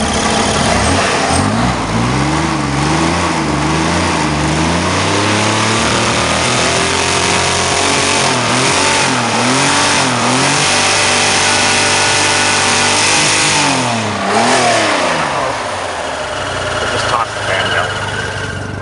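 A Corvair Monza's air-cooled flat-six revs up and down in repeated swells, rough and uneven with a cylinder misfiring and a fan belt about to be thrown, loud and close, with a voice talking over it.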